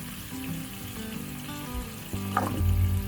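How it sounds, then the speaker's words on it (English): Chopped potatoes and sweet potatoes fry in oil with ginger garlic paste, making a moderate, steady sizzle with a low hum underneath. Near the end the sound grows louder with a brief stir. "I'll fry the potatoes along with the ginger garlic paste for around 2 to 3 minutes"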